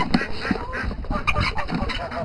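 Ducks quacking repeatedly in a winter poultry yard, several clipped calls spread across the moment at close range, with faint background noise and no talk over them.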